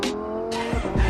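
A getaway car flees at speed, its engine roaring as tires squeal in sharp, sweeping skids, loud and close, with a final heavy low-end burst at the end.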